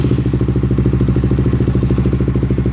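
A Honda RS150 motorcycle engine runs right after a push start, a loud, close, steady rapid putter with even pulses and no voices.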